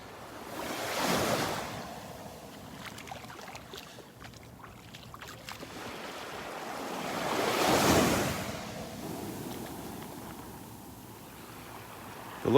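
Ocean waves wash onto Vanderbilt Beach in North Naples, Florida, swelling in two soft surges and receding between them, with light wind buffeting the microphone.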